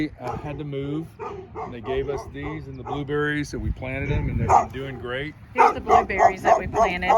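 Dogs barking and yipping in a backyard garden with blueberry bushes, sharp repeated barks near and loud, overlapping a person talking throughout.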